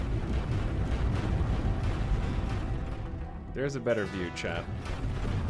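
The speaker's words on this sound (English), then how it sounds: "Those quad flak turrets just shred shields." Quad flak turrets blasting shields in a space strategy game, a dense continuous rumble of rapid booming fire that fills the clip, with someone talking over it.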